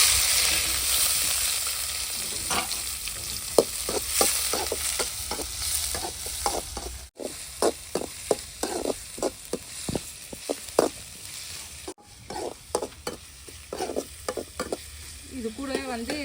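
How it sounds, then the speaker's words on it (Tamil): Mustard seeds and curry leaves sizzle in hot oil, the frying hiss studded with sharp, irregular pops and crackles that come in quick bursts, near and fairly loud throughout. "நான் கடுகு நல்லா பொறிஞ்சிச்சு இது கூட வந்து கருவேப்பிலை கருவேப்பிலையும் போட்டாச்சு"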